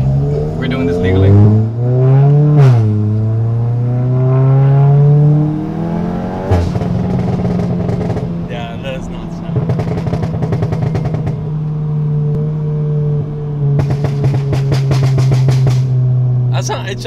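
A tuned Volkswagen MK7 GTI engine revs repeatedly, its pitch rising and falling in sweeps, then holds a steady drone on a wide open road, with people talking throughout.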